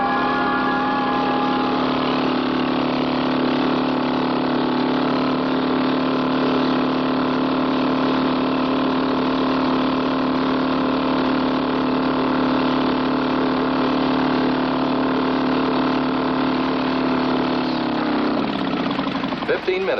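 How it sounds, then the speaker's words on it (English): A car engine idles steadily and loudly for about eighteen seconds with a constant hum, then winds down and stops near the end. "the engine would run all day if you keep pouring this mixture of mine in the tank"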